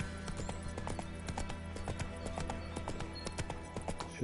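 Horse hooves clip-clop in the Witcher 3 video game on PS5, a steady rapid rhythm of hoofbeats running the whole time over a dense, loud game soundscape, with a faint whinny possible.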